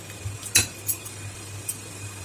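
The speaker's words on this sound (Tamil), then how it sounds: "நல்லா அடித்து கலக்கி விட்டுக்கலாம்" Rava idli batter being beaten and mixed in a bowl: a few close clinks and scrapes of a utensil against the vessel, one sharper knock standing out, all fairly faint with no talking.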